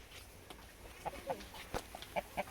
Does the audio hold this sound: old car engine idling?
no